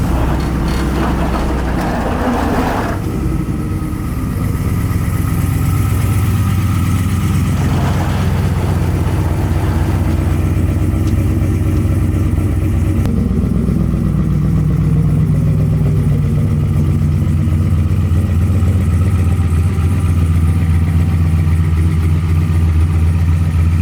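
A turbocharged LS-engined street truck driving along, a loud, steady engine drone with a deep rumble that shifts as it accelerates and changes load, heard from inside without talk.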